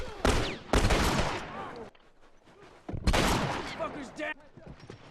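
Close-range shotgun blasts in The Last of Us multiplayer, several loud booming shots spaced a second or two apart, mixed with other game action.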